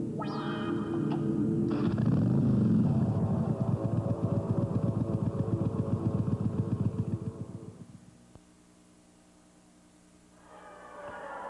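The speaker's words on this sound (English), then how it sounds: "The Yamaha Virago, with a unique combination of V-twin engine, monoshock suspension, and shaft drive" A Yamaha Virago V-twin motorcycle with shaft drive revs hard and throbs with a deep pulsing rumble for several seconds, then drops away to near quiet before a low engine sound returns at the end, near and loud.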